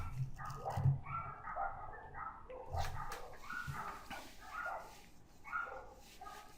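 Several dogs bark repeatedly in short, overlapping bursts at moderate distance, with an occasional yip among them.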